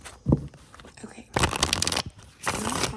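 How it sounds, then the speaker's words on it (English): A deck of tarot cards is shuffled close by in quick riffling bursts, three rapid fluttering runs separated by short pauses. "I will shuffle them again on camera"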